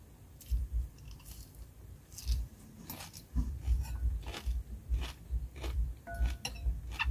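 Close, quiet chewing and crunching of fermented cucumber salad eaten with rice, irregular bites and soft wet mastication, with no talking.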